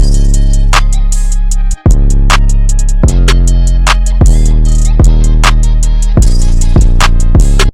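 A loud beat has its drums pushed through a bit crusher effect, giving punchy kicks and sharp, gritty hi-hats and snares a lo-fi, digitally degraded crunch over steady tonal layers, with one brief dropout early on.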